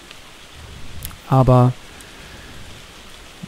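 Steady rain falls in ARK Survival Evolved as a soft, even hiss through the whole stretch, with a single brief spoken word cutting in near the middle.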